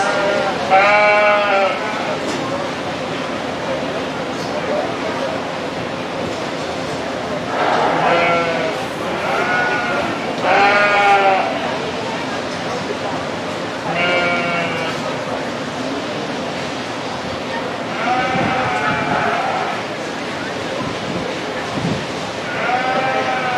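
Sheep bleat repeatedly at a livestock show, several loud, wavering calls spaced every few seconds over a busy barn hubbub of crowd and voices.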